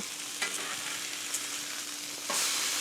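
Bacon pinwheel burgers fry in a hot pan with a dense, constant sizzle close up, broken by a few soft scraping clicks and a louder surge of crackling near the end.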